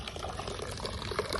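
Water pours and splashes steadily at close range while something is washed outside a home on a rainy day, a continuous liquid rush throughout the short moment.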